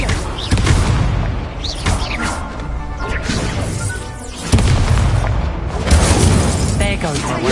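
Loud crashing blasts of a Confringo fire spell burst repeatedly during a spell-casting fight in the Hogwarts Legacy video game, layered with game music and shouted incantations.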